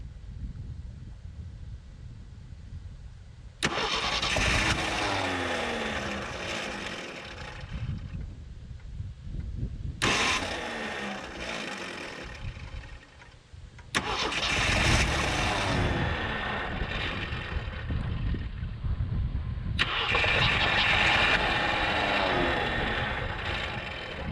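A 1974 Jeep CJ5 with a bad spot on the flywheel cranks over in several loud, abrupt bursts of engine noise separated by quieter pauses, each lasting several seconds.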